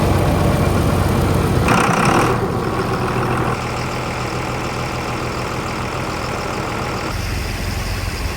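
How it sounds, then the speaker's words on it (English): A Honda water pump engine runs steadily at a gold sluice at a mining site in the Yukon, a loud continuous mechanical drone with a shift in tone partway through and no talk over it. "Just filling up the pump with a little Honda there. Once this is all full, this engine's usually warm by then."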